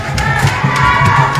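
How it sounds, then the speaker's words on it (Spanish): A crowd at a civic award ceremony in La Paz cheers and shouts loudly for youth honorees, with a continuous roar of many voices and some clapping mixed in. "Fuerte el aplauso para todos los compañeros que están recibiendo su nota laudatoria."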